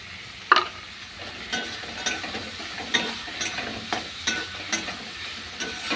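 Fish sizzle and fry in a pan with steady crackling, punctuated by a series of sharp scraping stirs from a utensil, close and fairly loud.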